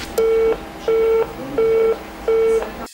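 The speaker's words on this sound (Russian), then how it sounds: "все остальные услышат лишь короткие гудки" A phone line gives a busy signal, four short evenly spaced beeps at a steady rhythm, clear and close with nothing else over them.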